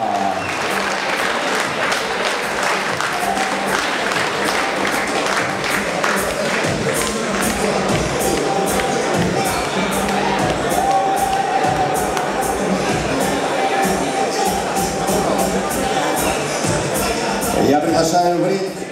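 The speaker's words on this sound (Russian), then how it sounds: "Аплодируем, аплодируем!" A crowd in a boxing arena keeps up loud, continuous applause and cheering, a dense wash of clapping that runs throughout. An announcer speaks over it.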